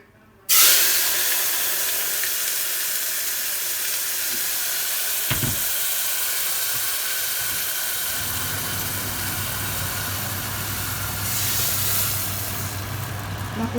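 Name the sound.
juice poured into hot oil sizzling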